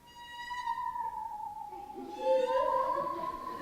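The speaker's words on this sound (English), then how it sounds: "the same happens with the metal of this saw" A metal saw bent and vibrated as a musical instrument sings a wavering, sliding tone that rises and dips, swelling louder in its second half, heard alone and up close.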